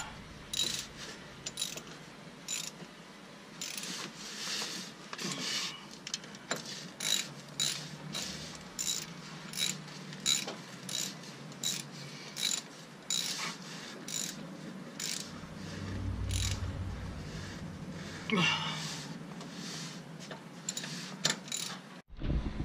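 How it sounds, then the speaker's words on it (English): A ratchet tightening the rear axle cover bolts on an F-body 10-bolt rear end, giving rapid rhythmic clicking bursts in regular strokes, close and clear, with short pauses between bolts. "Hand tight it for it first, and then we'll torque them down."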